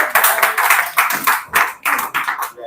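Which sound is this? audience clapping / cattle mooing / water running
audience clapping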